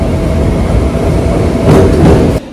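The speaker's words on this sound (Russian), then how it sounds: "Такой вот пригородный поезд. Маленький, небольшой." A suburban electric train rumbles past close by near Szentendre, Hungary, a steady low roar with a brief rise in rattling noise near the end before it drops off suddenly.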